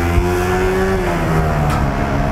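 Suzuki GSX-R150 motorcycle on a factory test ride, its engine droning steadily close by with a slight rise and fall in pitch, continuous and loud with no talk.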